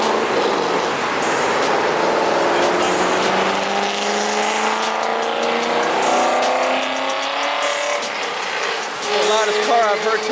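A loud Corvette engine roars and revs nearby at a Corvette gathering on a rainy day, its rising and falling pitch sweeping over several seconds amid wet road hiss and background crowd noise.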